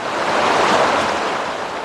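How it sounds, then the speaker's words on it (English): Brown floodwater from a creek cascades down a road leading out of a canyon, making a loud, constant rushing wash heard alone. "The creek that runs through here now cascades down the road leading out of the canyon."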